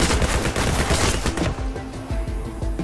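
Rapid gunfire from a captured enemy gun in Sword with Sauce, a loud, fast string of sharp shots, denser at first and then spacing out into irregular bursts.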